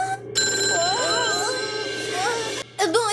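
A telephone rings nearby with a loud electronic warbling trill that repeats for several seconds and breaks off briefly near the end before resuming.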